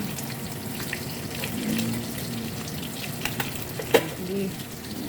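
Fish sizzles steadily in hot oil in a home kitchen, a dense continuous crackle close by, with a few sharp clinks and taps from a utensil near the end and no talking.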